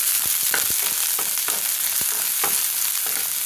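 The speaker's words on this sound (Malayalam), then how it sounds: "നല്ലോണം പൊരിയട്ടെ" Chopped green chillies and onion fry in hot oil in a pan, giving a loud, dense hiss with scattered crackles and pops, close up and unbroken by speech.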